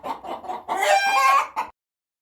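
Hens in a dark henhouse give a quick run of agitated clucks that rise into a longer, squawking, crow-like call, close and clear, then stop abruptly.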